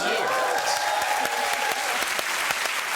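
Studio audience applause on a British talk show, a loud, sustained wash of clapping with a voice speaking over it throughout.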